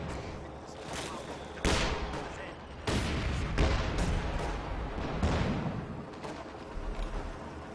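Bursts of strafing gunfire from an aircraft run over infantry in Company of Heroes 2, loud rattling volleys repeating across the battlefield amid other combat noise and explosions, with a voice talking over it.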